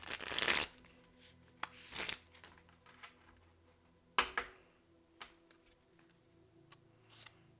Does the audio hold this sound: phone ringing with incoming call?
no